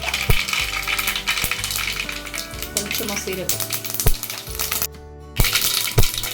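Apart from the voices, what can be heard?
mustard seeds popping in hot oil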